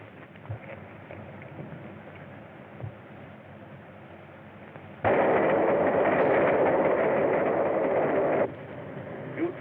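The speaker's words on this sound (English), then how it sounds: "We'll overtake the train at the junction." An early-1930s express train runs on the railroad, first as a low steady rumble, then swelling abruptly into a loud, dense roar for several seconds before dropping back to the quieter rolling noise.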